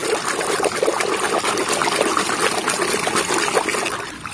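Water pours and trickles steadily while a muddy toy race car is being washed, a continuous splashing flow that stays close and fairly loud, with no talking over it.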